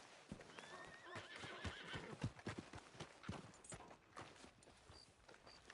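Horse in Red Dead Redemption 2 clip-clopping along at a trot with repeated whinnies and neighs, hoofbeats steady and fairly close over ambient game sound.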